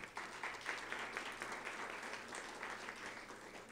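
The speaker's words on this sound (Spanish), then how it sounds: "Agradecemos también la presencia con un aplauso" An audience at a Mexican history museum award ceremony applauds the museums' general director, a sustained wash of many hands clapping, moderately loud and even, with no voices on top.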